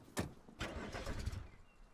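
Car in the Rust video game, out of fuel, trying and failing to start: a couple of short cranking bursts and a brief sputtering engine turnover that never catches, close and moderately loud.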